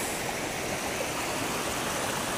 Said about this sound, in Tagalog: Ang batis guys, doon nagmumula sa falls.